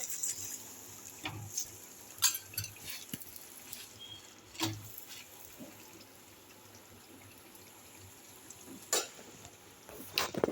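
A chapati cooks on a pan with a little oil added, giving a quiet, faint sizzle broken by soft scattered taps and scrapes, close by, with no speech.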